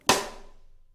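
A beatboxer's voice imitates a snare drum rim shot: one sharp, bright crack with a short fading tail, close and alone.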